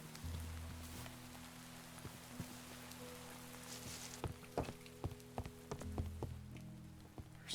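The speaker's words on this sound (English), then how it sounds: "I really hope this rain stops come daytime" Rain falls in the video game Minecraft, a soft steady patter under scattered taps and footsteps, quiet and continuous.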